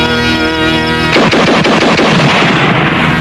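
A single loud gunshot cracks out abruptly after a sustained tone, followed by a rattling echo that decays over a couple of seconds.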